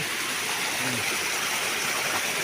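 A steady, rushing wash of water flowing out of a cave, constant and fairly loud with no breaks.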